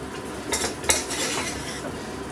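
A utensil scrapes and clinks against a pan while ingredients are stirred into cooked meat, with a couple of sharper knocks and faint sizzling beneath.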